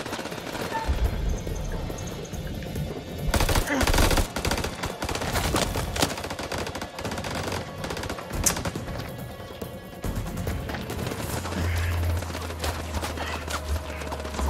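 Sustained, loud gunfire exchange in the video game House of Ashes, set in Iraq, with dense bursts of automatic fire and shots echoing continuously throughout, near and heavy.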